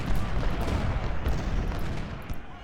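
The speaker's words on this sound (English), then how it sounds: "Thompson with your 12-pounders, open up on Wilcox." Cannon fire from 12-pounder artillery in the Civil War strategy game Ultimate General: Civil War, a dense, rumbling barrage of overlapping booms and crackling shots that rolls on without pause.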